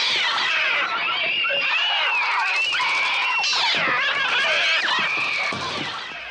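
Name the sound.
cat-like bird attack sounds from Hitchcock film The Birds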